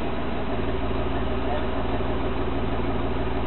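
A freshly rebuilt 4.3 V6 runs just after its first startup, giving a loud, steady, dense engine roar with no pauses, close by and filling the whole stretch.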